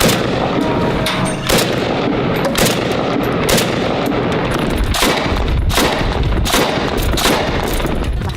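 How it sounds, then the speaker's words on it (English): Rifle shots from a sniper crack one after another in an ISIS-controlled neighbourhood of western Nashwe, about a dozen sharp reports at a steady, spaced pace over a constant noisy background. "This is a shot by their sniper."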